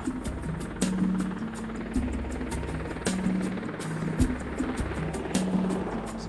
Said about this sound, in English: Marine One is the helicopter that has the president on board and lands on the south lawn of the White House